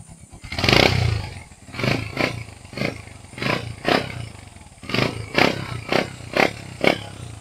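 A Honda TMX 125 motorcycle engine cranks and fires, with repeated rhythmic starter bursts and rough pulsing revs close by, loud and uneven, with no talking over it.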